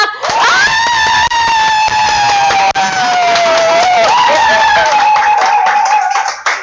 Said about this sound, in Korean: 박수 함성 준비 아싸 해보세요.